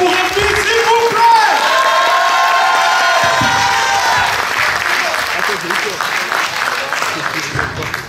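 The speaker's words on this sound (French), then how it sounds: "Un tonnerre d'applaudissements pour Hermine, s'il vous plaît." An eloquence contest audience breaks into sustained applause with cheering and whoops, loud and dense throughout, slowly easing toward the end.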